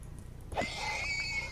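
A single high, wavering horse whinny in modded Minecraft rises over a low background hum and fades out, brief and fairly clear.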